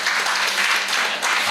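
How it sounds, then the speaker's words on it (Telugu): Audience applause at a retirement party, a dense steady wash of clapping filling the whole moment without a break, fairly loud and close. "గట్టిగా చప్పట్లు కొట్టాలి మీరు."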